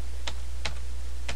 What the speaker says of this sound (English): So I'm just typing it in.